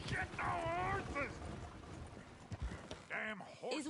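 Horse hooves clip-clop at a steady trot in Red Dead Redemption 2, a moderately close rhythmic clatter heard under animated speech from game characters.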